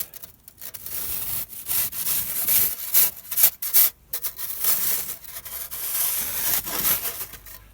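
Solid, cold snow blocks being trimmed for an igloo make rough scraping and rasping strokes in irregular bursts, close up with brief quiet pauses between cuts.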